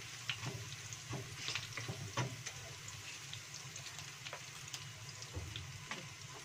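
Diagonally sliced green chilies and tomatoes fry in oil in a pan, a soft steady sizzle, fairly quiet, with scattered taps and scrapes of a spatula stirring.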